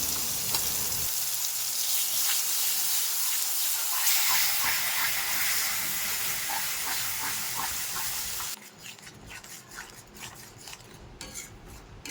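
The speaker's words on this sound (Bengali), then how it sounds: "মিক্সারে বেটে রাখা মশলাটা এবার দিয়ে দেবো" Ground onion, ginger, garlic and tomato paste hits hot ghee in a kadai with a loud, dense sizzle and the scrape of stirring. The hiss drops to a quieter crackle near the end, with utensil clinks.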